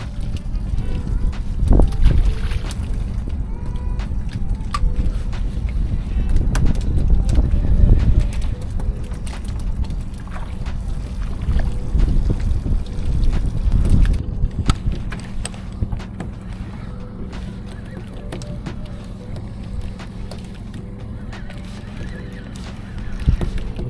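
Strong wind buffets a small fishing boat on a fjord, a heavy low rumble with gusty surges and scattered knocks and clatters across the whole stretch, no clear voices.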